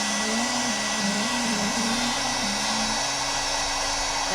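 A heat gun blasting hot air onto a galaxy-painted tumbler, a steady loud whooshing drone with a constant motor whine, close and uninterrupted, with no talking.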